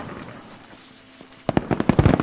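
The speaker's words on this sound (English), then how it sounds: "they inexplicably set off fireworks during a Silent Hill-inspired horror game" Fireworks burst in a Silent Hill-inspired horror video game: after a quiet lull, a rapid cluster of sharp crackling pops erupts close and loud in the final second.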